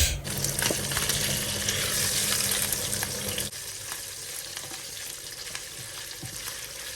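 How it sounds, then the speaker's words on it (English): Beef sautés in a pan for a beef and vegetable spaghetti, a loud, dense sizzle for the first half that abruptly drops to a softer, steady frying hiss, with no talking. "I'll begin by sauteing my beef"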